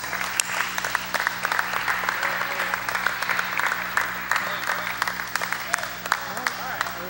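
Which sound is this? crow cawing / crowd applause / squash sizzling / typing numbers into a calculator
crowd applause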